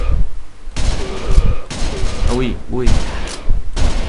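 Virtua Cop 2 arcade gunfire comes as several loud broadband blasts at uneven intervals, mixed with game effects while someone talks and exclaims over it.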